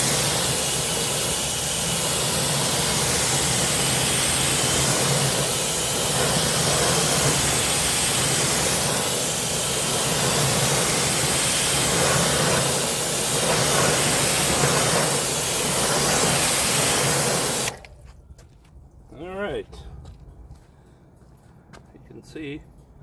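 Pressure-washer spray rinsing brake dust off the wheel rims of a 2024 Mercedes-Benz AMG GLE63s SUV, a loud steady hiss that pulses slightly, then cuts off abruptly and a voice is heard speaking.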